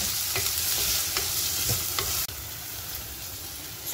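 Onions with crushed shallots, curry leaves and green chillies stirred in a pan for mathi choru, sardine rice, with a spoon scraping in steady rhythmic strokes over a constant close sizzle that drops slightly partway through.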